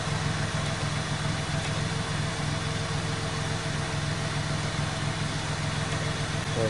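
A Datsun Go+ car idles while warming up in the morning, its engine giving a steady low hum with a faint vibration that stays even and close throughout.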